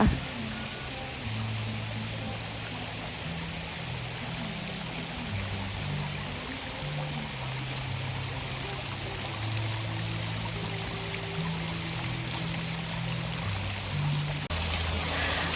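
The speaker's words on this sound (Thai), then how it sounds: "มุมนี้ก็จะเป็นน้ำตกสวย ๆ ให้เรามองเพลิน ๆ นะคะ" An artificial waterfall at a cafe pours in a continuous, even rush of splashing water, close and steady throughout with faint low background murmur.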